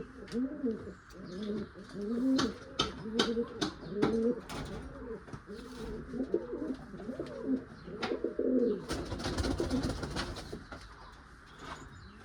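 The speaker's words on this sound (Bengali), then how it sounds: "নর কবুতর" Male Malawi pigeons coo in repeated throaty, rolling phrases close by, with a few wing flaps and rustles and some fainter chirps in the background.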